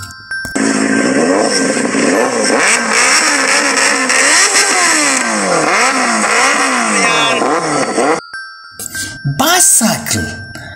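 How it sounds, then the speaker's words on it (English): A motorcycle engine revs repeatedly in rising and falling sweeps, loud and close, for about eight seconds, followed by a short burst of jingly, clattering noise. "This is a motorcycle."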